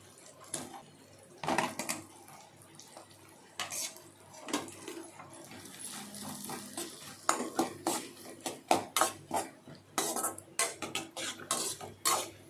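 Onions being stirred and sautéed in melted butter in a pan, a soft low sizzle broken by irregular clinks and scrapes of a spoon against the pan, fairly quiet and close, with no voices.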